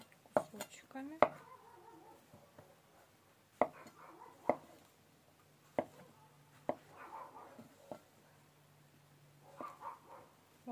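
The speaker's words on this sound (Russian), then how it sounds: "Итак, мы нарезаем грибы." A knife taps sharply on a cutting board in scattered, irregular chops while dicing mushrooms, quiet and close, with soft talking in between.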